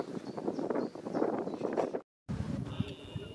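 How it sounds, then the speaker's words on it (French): Wind gusts buffet the microphone high on the Morlaix viaduct in Brittany, a steady broadband rumble with a brief silent cut before the blustery noise resumes. "il y a pas mal de vent"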